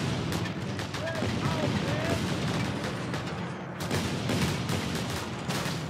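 Shotgun blasts and rumbling gunfire fill an open-world action game scene, a steady dense barrage of shots with a brief dip partway through and a voice talking faintly underneath.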